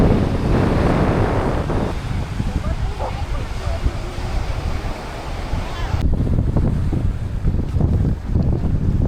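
Steady wind buffeting the microphone over a low rumble of engine and water on a ferry deck in Lithuania; the noise shifts and deepens partway through.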